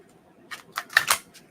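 Oracle cards being shuffled once by hand, a few short papery riffles and flicks clustered close together, fairly quiet and with no talking.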